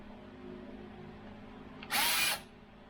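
A brief, loud burst of a power drill whirring for about half a second, following a quiet, humming background, during horn relay wiring.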